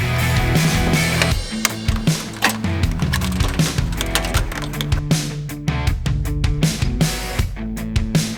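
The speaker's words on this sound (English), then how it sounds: "I'm just going to take a little pair of dikes and just clearance it just a little bit." Diagonal cutters snipping and trimming a plastic fuse box cover on an LML Duramax, a series of sharp close clicks and cracks over a low steady hum.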